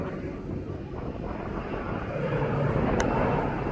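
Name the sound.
Aer Lingus airliner passing at East Midlands Airport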